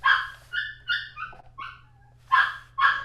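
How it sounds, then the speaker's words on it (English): An excited dog barks close by in a home, a quick run of sharp yips and barks with short whimpers between them, fairly loud and with no talk over it. "You hear my dog. He's all excited about seeing Sean."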